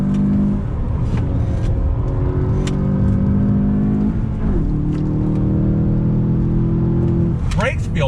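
2020 VW Jetta GLI engine blipping and revving through downshifts while braking into a decreasing-radius corner, loud in-cabin drone with rising and falling pitch sweeps, with a driver talking over it throughout.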